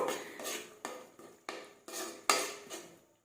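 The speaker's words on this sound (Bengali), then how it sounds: "এরপর আবার নাড়তে থাকবো ভালোভাবে নাড়তে থাকবো" A metal spoon stirring ground coriander and cumin in a cooking pan for palak paneer, making about seven rhythmic clanking scrapes against the pan, close and distinct, each fading before the next, with no talking.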